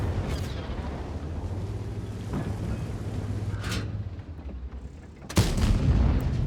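Tank cannon fire in the World of Tanks video game: a low, rumbling game soundscape with a muffled distant boom midway, then a loud, sharp close cannon blast near the end followed by a heavy, sustained rumble.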